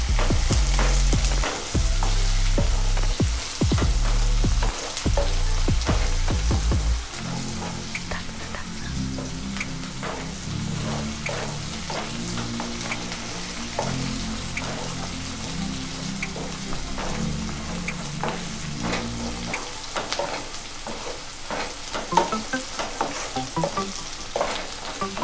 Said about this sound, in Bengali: নুন দিয়ে আমি আবার হালকা করে নেড়ে চেড়ে নেব পেঁয়াজটাকে।